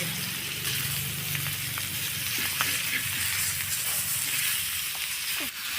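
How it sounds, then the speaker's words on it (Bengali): Ginger frying in a pan while cooking rohu fish with young bottle gourd, a loud steady close sizzle with occasional crackles and pops running throughout. "আদা ভাজা প্রায় হয়ে গেছে"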